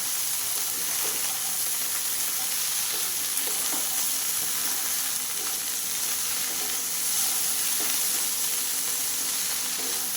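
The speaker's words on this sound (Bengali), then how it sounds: "নাড়াচাড়া করে নিচ্ছি।" Okra frying in a pan makes a dense, continuous, close sizzle. Faint scraping from stirring runs underneath it, with no talking.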